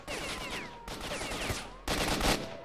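Rapid gunfire in S.T.A.L.K.E.R. Shadow of Chernobyl: three bursts of automatic fire, each cutting in sharply, fairly quiet and close, with ricochet-like whines trailing through them.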